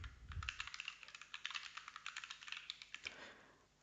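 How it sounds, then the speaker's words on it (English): Rapid typing on a computer keyboard, a dense run of light clicking keystrokes in irregular bursts, close and fairly quiet, with a brief low thump at the start and a short pause near the end. "Excuse my typing today"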